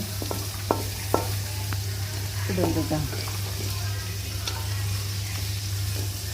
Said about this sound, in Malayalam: ഇഞ്ചി നന്നായി ഒന്ന് സോട്ട് ചെയ്തെടുക്കുക അത് കഴിഞ്ഞിട്ട് പിന്നെ വെളുത്തുള്ളി ഇടാം